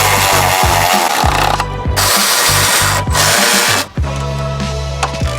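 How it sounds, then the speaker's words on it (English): A power ratchet runs in several short bursts while tightening bolts on a Honda Civic Si, loud and close, with brief pauses between the whirring spells and no talk over it. "The power on this power ratchet is always impressive."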